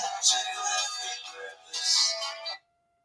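A mobile phone ringtone plays a bright electronic melody in two loud bursts, then cuts off abruptly into silence.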